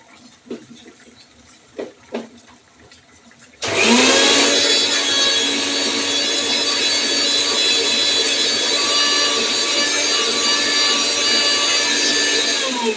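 A mixer grinder switches on after a few soft knocks and then runs at a loud, steady, high-pitched whine while grinding spinach with a little water, continuing unbroken to the end.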